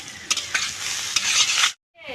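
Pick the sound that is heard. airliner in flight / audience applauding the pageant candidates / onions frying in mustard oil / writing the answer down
onions frying in mustard oil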